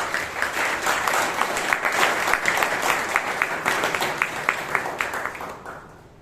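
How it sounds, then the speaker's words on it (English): Audience applause at a Toastmasters meeting in Bangalore, a dense, sustained round of many hands clapping at close range that fades out at the end. "let's give a big round of applause to Toastmaster Hitesh."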